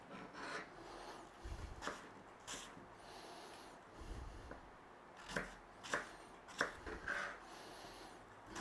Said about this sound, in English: So we just want to be cubing some apple.